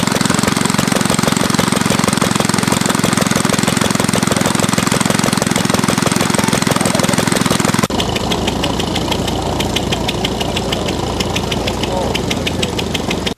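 A JAP 55 stationary engine drives a compressor at a rainy outdoor show, its loud, steady rapid firing beat filling the scene before the sound shifts partway through to a sharper, lighter mechanical pulse.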